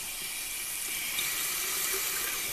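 Hot water runs steadily from a roughly 30-year-old bathroom sink faucet, a constant close hiss of flowing water with no pauses.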